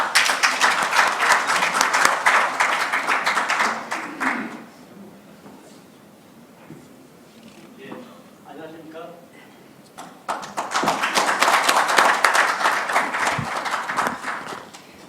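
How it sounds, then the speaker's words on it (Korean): Forum audience applauding loudly, a dense burst of clapping for about four seconds, a quieter stretch with a few voices, then a second sustained round of applause. "박수 부탁드리겠습니다."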